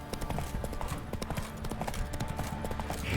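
Close, crisp clip-clops from Roach's hooves trotting at a steady rhythm in The Witcher 3, with light ambient game background and no talk.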